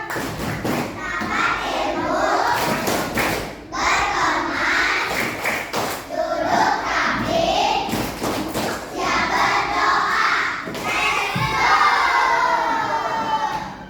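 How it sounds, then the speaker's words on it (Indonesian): A class of schoolchildren performs the rhythmic 'tepuk pulang' clapping chant at the end of a lesson, loud voices chanting together with bursts of claps in repeated phrases, several pauses between rounds. "yuk tepuk pulang"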